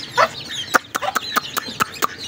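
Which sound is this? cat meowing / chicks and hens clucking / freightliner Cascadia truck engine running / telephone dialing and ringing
chicks and hens clucking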